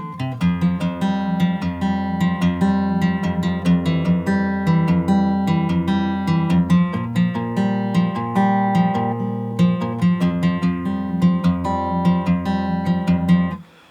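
Acoustic guitar in standard tuning fingerpicking the intro of a song, a steady flowing pattern of plucked notes with pull-offs over ringing bass strings, clear and close for about fourteen seconds, with no voice.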